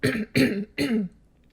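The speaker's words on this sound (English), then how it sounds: "every time I get on this microphone, I have to cough and hack and wheeze all over the place" Three harsh throat-clearing coughs come in quick succession, close and loud, then fade into quiet.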